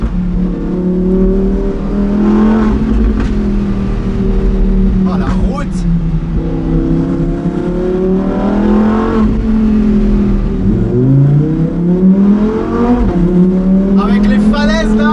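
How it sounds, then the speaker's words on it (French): A Lamborghini Huracan Performante S accelerates through a small tunnel, its loud engine climbing and dropping through gear shifts with echoing roar, while someone talks over it. "Si j'accélère un tout petit peu plus,"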